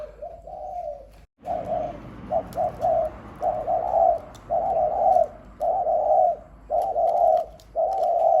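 Repeated rounded dove coos close by, a series of phrases with short pauses between them, no talking.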